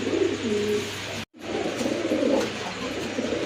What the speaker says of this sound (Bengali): এটা একবার লেজ সাদা কবুতর, এই দেখেন